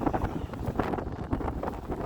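Strong wind during a snowstorm buffets the microphone in a steady, loud roar with gusting swells, unbroken and with no voices over it.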